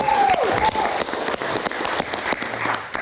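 A studio audience at a live talk show breaks into loud, sustained applause and cheering, dense clapping filling the whole stretch with a brief whistle near the start.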